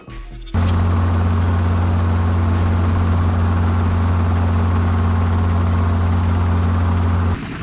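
A helicopter engine in Minecraft drones loudly and steadily, a deep rotor hum with a constant mechanical whine, starting abruptly and cutting off at the end.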